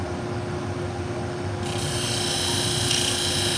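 Salon shears being sharpened to a 50 degree bevel on a powered sharpening machine, a steady continuous grinding rasp over a constant motor drone, turning brighter and harsher partway through, with no talk.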